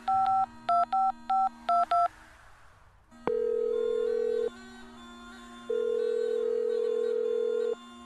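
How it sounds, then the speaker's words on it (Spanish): A mobile phone dials a number with a quick run of six clear keypad tones, then a steady ringback tone sounds in two long pulses separated by a short gap. "Entonces vamos a llamarlo por teléfono."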